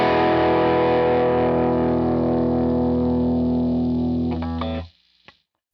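Electric guitar played through a Class A amp model in a Fractal preset rings out as a loud, distorted sustained chord, then is muted and stops abruptly with a brief pick scrape.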